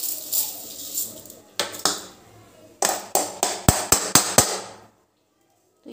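Metal and ceramic dishes clink repeatedly as cooked rice is transferred into a small bowl in a home kitchen: scattered taps, then a quick run of sharp, close clinks before falling silent, with no talk over them.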